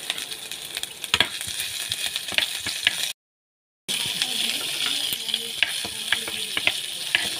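Chopped ginger sizzles and spits steadily in hot oil in a pan, a close, continuous frying hiss with scattered pops and one brief dropout to silence midway; no voices.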